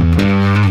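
A 1978 Fender Jazz bass played through heavy distortion with amp and cabinet simulation sounds out as one sustained, gritty, buzzing note, loud and alone for under a second.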